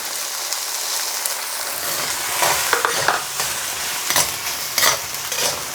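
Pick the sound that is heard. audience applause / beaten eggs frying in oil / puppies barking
beaten eggs frying in oil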